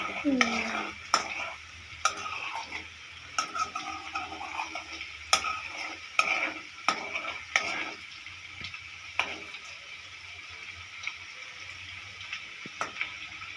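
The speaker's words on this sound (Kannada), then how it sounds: "ಅದು ಕಾಯ್ತಾ ಕಾಯ್ತಾ ಸಣ್ಣ ಉರಿಯಿಂದ ಮಾಡ್ಕೋಬೇಕು ಎಣ್ಣೆ ಥರ ಬರುತ್ತಲ್ಲ" Homemade butter from milk cream melting into ghee over a low flame, a soft continuous bubbling sizzle broken by repeated sharp scrapes and taps of a spoon stirring against the pot, with no voices.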